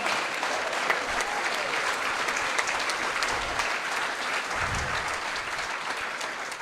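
Campaign volunteers applaud at a gubernatorial campaign event, a sustained, even roar of crowd clapping in a room, with a few low thumps mixed in.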